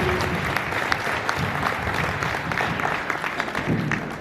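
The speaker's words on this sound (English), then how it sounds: "Could we clap for all of you?" Audience applause at a regional education forum held at a school, steady dense clapping from a crowd filling the room for several seconds without pause.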